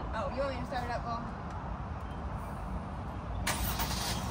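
The engine of a newly bought RV cranks and catches at about the midpoint, then settles into a low, steady idle under family chatter before and after.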